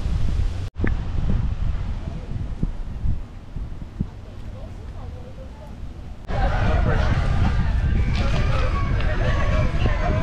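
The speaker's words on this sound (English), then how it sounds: "It's a little windy. I hope it's not too noisy." Wind blowing by Bacalar lagoon, a steady broadband rush that swells louder in the last few seconds, with a few brief knocks and no talking.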